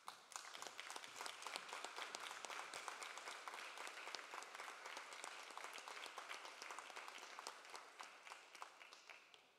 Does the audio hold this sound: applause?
yes